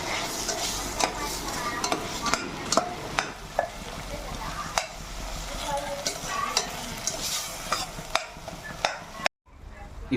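Salt being stirred into food frying in a pan for paneer butter masala, a spoon scraping and tapping the pan in irregular strokes over a constant sizzle, cutting off abruptly near the end.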